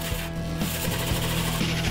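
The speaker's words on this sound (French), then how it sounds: "Percez le trou avec la scie cloche, utilisez le conduit comme gabarit pour percer le mur." A hole saw cuts through a wall to fit a wall-mounted extractor fan's duct, a loud, continuous grinding drone with a rapid rough judder, heard close and alone for two seconds.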